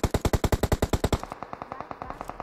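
Automatic gunfire in the video game PUBG Mobile: a fast, loud, evenly spaced burst of shots, heavy at first and then continuing as lighter, quicker reports, with no talk over it.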